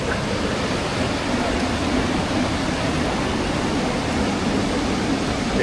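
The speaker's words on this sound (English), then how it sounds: "Second waterfall coming up." A waterfall on a hiking trail at Hotnitsa in Bulgaria roars as a steady, dense wash of rushing water, loud and unbroken, with no voices.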